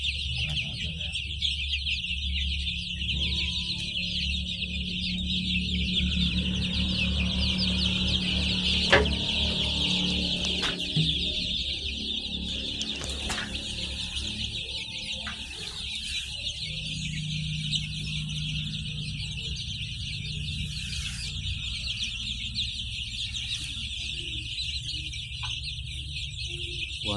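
One-week-old chicks peep continuously and close by in a dense, high chorus over a low background hum, with a few knocks and bumps now and then.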